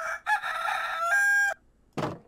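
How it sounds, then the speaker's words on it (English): A custom rooster crow in Minecraft Java rings out loud and close, one long harmonic cock-a-doodle-doo of about a second and a half, then a short pause and a brief noisy burst. "And there's the rooster."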